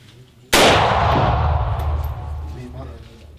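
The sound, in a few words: rifle gunshot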